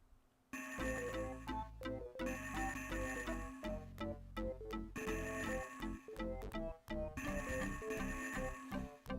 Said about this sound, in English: The bells, the bells, the bells!